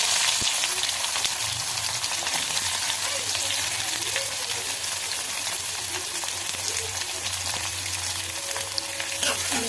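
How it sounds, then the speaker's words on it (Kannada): Onion fries with mustard seeds in hot oil for a sprouted green gram palya, making a loud, continuous, close sizzle with occasional crackles and no talk. "ಈಗ ಉಳ್ಳಾಗಡ್ಡೆ ಹಾಕ್ತೀನಿ ರೀ."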